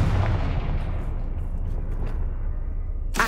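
A Confringo fire-blast spell explodes in the video game Hogwarts Legacy with a single loud boom that rolls into a long, rumbling decay, followed by a sharp crack at the end.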